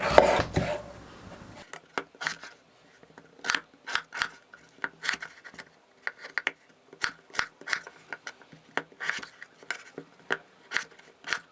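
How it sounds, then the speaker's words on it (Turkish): A knife chops potatoes into large cubes on a board, sharp irregular cuts in quick bursts, close by with no talking. "Şimdi şöyle küp küp büyük büyük doğrayalım."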